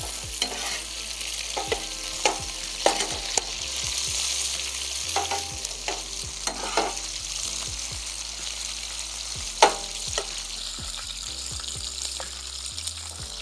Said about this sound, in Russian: Обжариваем до румяной корочки